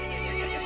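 A horse neighing in Resident Evil Village, a short, loud, sustained whinny with a strongly tonal, layered quality and no talk over it.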